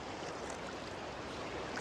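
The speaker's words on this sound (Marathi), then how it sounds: "इथं वाहतं पाणी आहे" Flowing river water in a Konkan village river where people swim, a steady broadband rush and wash that stays even and fairly close throughout, with no voices.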